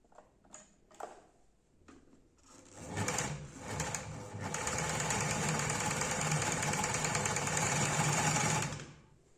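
A hemming and basting sewing machine gives a few mechanical clicks, then its motor winds up into a steady, whirring run that holds for several seconds before stopping.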